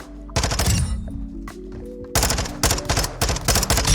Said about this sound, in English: This is how the Vaznev shoots in the shooting range.